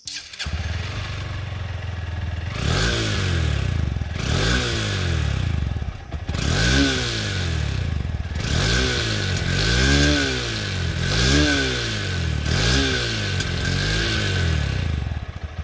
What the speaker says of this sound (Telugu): ఇప్పుడు మనం దీని ఎగ్జాస్ట్ నోట్ ఎలా ఉందో చూద్దాం ఒకసారి